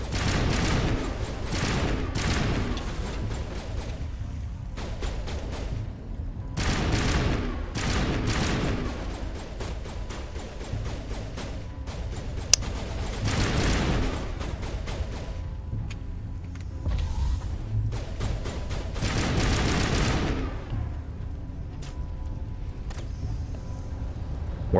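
Gunfire from the video game Mass Effect Legendary Edition comes in repeated loud bursts of rapid automatic shots, broken by short pauses, with dense crackling volleys throughout.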